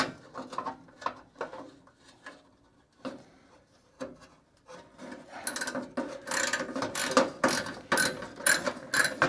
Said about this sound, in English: Just got to use a regular ratchet to get at it.